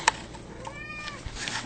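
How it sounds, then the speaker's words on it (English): A pet cat giving one short, close meow in a quiet room with a faint background hum. "here comes my kitty"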